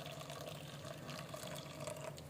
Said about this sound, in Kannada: ಇದು ನೋಡಿ ಬಿಸಿಯಾಗಿದೆ ನೀರು, ಇದನ್ನ ಸ್ವಲ್ಪ ತಾಕಿ ನೆನೆಸಿಡ್ಬೇಕು.